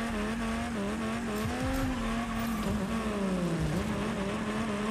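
A Rocket Racing car drifts under turbo boost, its engine holding a steady high whine that bends and dips as tires squeal and skid, loud and continuous with no talk.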